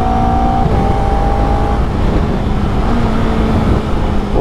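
Honda CBR250RR motorcycle engine recorded on board while riding, a loud continuous whine with pitch shifts as revs rise and drop between gears, mixed with wind and road rush.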